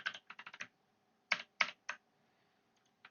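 Computer keyboard keys tapped in a quick burst of about six strokes, then a pause and three more spaced taps, close and quiet in a silent room.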